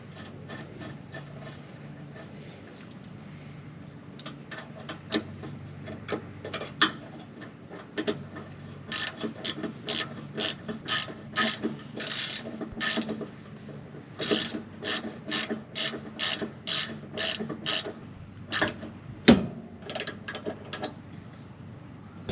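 A ratchet tightens the end cap on the rear anti-rock bar of a 2021-or-later Ford Bronco, with rapid close clicking strokes in repeated bursts and small metallic knocks between them.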